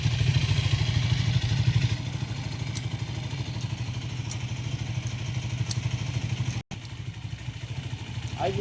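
A motorcycle engine idling steadily close by with a low, even rumble, and light clicks and a brief clatter near the end.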